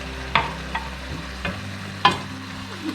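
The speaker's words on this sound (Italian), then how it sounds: "lo andiamo a sfumare con mezzo bicchiere di vino bianco" Browned lamb sizzling in a pan as half a glass of white wine is poured in to deglaze it, a soft steady sizzle broken by a few sharp utensil clicks and scrapes, close and unaccompanied by voices.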